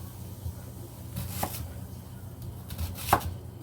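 A knife chops vegetables into thick pieces on a cutting board for chicken pot pie, giving a few quiet, separate thuds over a low background hum.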